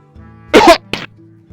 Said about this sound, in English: that was my cough actually